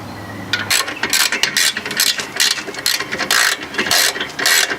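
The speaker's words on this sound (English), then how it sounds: "So I'm tightening the bolts." A ratchet clicks in quick repeated bursts while tightening bolts on a Kia Forte rear camber setup, close and crisp, with short pauses between the strokes and no talking.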